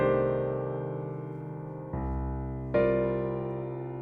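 Piano plays sustained five-note chords from a harmonized minor scale, two notes in the left hand and three in the right; three struck chords ring and decay, each clearly separated and alone.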